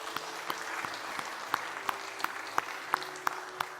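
A church congregation at a Sunday worship service claps for the students, with steady rhythmic hand claps sounding in a regular beat over a soft crowd background.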